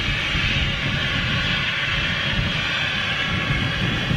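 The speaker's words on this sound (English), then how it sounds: "This is a KLM on approach, perhaps." A KLM airliner on approach to London City, heard as a steady, broadband jet roar that stays loud and even throughout, with no talking.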